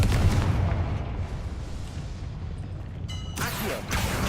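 A fire spell blast in the Hogwarts Legacy game lands as a loud booming explosion at the start, a rumbling tail, then fresh sharp bursts and crackles near the end.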